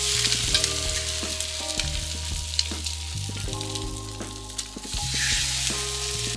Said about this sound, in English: we're going to go straight over to the griddle. I'm gonna put this straight down, and we will monitor it